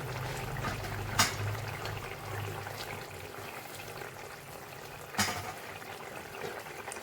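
A pot of pui (Malabar spinach) curry with fried eggplant simmers at a steady boil, giving a continuous soft bubbling hiss with two brief clicks along the way and no voices.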